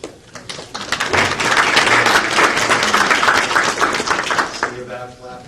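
Applause from the audience at a Passaic County commissioner meeting fills the room loudly and steadily for about five seconds, dense and continuous, then tapers off as voices return at the end.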